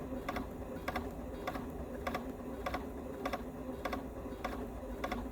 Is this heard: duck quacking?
no